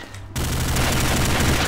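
A shotgun in the shooter game Combat Arms Reloaded erupts into loud, dense, continuous gunfire after a brief quieter moment, filling the rest of the moment with heavy blasting.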